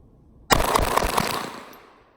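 Four or five sharp, close gunshots come in a quick string from a Glock 44 pistol firing .22LR rounds. They start abruptly and leave a ringing tail that fades away.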